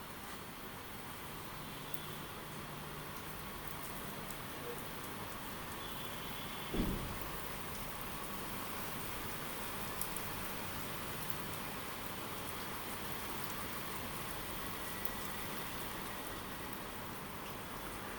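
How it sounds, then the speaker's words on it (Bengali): Garlic frying in a karai for a kalijira bhorta, a dense, steady hiss and crackle like light rain that holds evenly throughout, with one brief knock partway through and no speech. "রসুনটাও কিন্তু আমার লাল লাল করে ভেজে নেওয়া হয়ে গেছে।"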